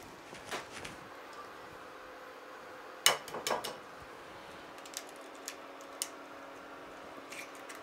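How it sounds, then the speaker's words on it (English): Eggs cracked into a pan for an Italian egg breakfast, giving a sharp crack followed by a few soft clicks and wet taps, quiet and close, with no talking. "you want to take your eggs and you want to crack them in the center"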